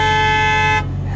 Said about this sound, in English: Traffic, people honking.